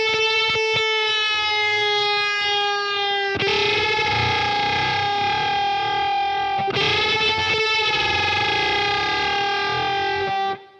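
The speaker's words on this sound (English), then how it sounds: "those really weird string bends where you get those harmonics through the string bends" Electric guitar played through distortion and effects, sustained string bends gliding between notes with sputtering, wavering harmonics ringing above; three long bent phrases, loud and alone.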